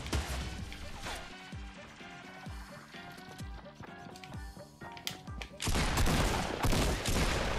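Rapid bursts of gunfire in Fortnite, a steady stream of repeated shots with game music and effects behind, swelling into a louder, denser crash of noise near the end.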